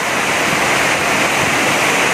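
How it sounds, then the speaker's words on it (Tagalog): Dense, roaring downpour of heavy typhoon rain heard from a terrace, loud and unbroken, with a broad hiss filling everything and no other sounds. "Ayan, lakas na ng ulan."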